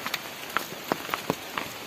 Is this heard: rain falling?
yes